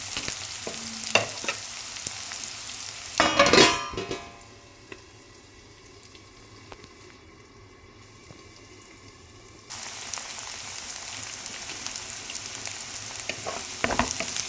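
Egg and capsicum fry in a pan with a steady crackling sizzle, briefly stirred with a louder scrape, then the sizzle drops low for several seconds before rising again.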